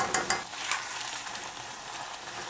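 Thin hissing of onions frying in a pan alongside red peppers and tamarind paste, with a few sharp spoon scrapes early on and a steady sizzle after, no talking.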